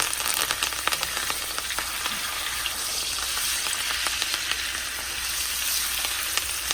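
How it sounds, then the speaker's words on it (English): Butter, thyme and rosemary fry beside a steak in a hot pan, giving a steady, bright sizzle with frequent sharp crackles and pops throughout. "We're gonna fry up that thyme real nice."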